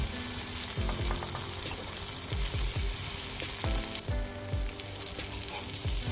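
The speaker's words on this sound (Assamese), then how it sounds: "বিলাহী কাটি থোৱা বিলাহীখিনি এখন ভালকৈ লৰাই লৈ" Chopped tomatoes sizzle steadily in a hot pan while being stirred for a masala rajma dish, with repeated scraping strokes of the spoon over a constant close frying hiss and no voices.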